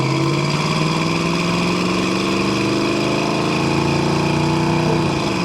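Restored 1968 Chevrolet C10 short-bed pickup engine pulling steadily through a test drive, a loud continuous drone whose pitch rises slowly as it accelerates, then drops off sharply near the end as if shifting.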